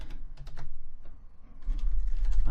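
Quick bursts of keyboard typing, a few irregular keystroke clusters, close and moderately loud over a low background hum.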